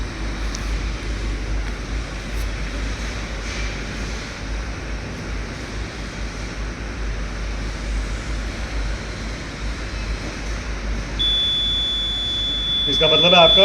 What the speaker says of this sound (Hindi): अब ये टाइम आपको अपने बीप कर जाएगा जैसे टाइम पूरा होगा।